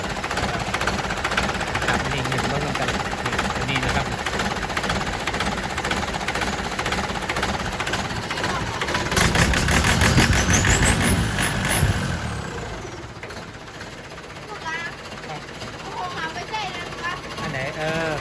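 A stock factory motorcycle engine idles nearby while its idle screw is adjusted. The rough, pulsing drone continues throughout, swelling briefly midway, with someone talking over it.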